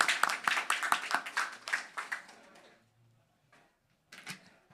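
Applause from a live and online audience honoring panelists at a youth climate-action policy event: a dense burst of clapping that fades to near silence, then a brief renewed spatter of claps.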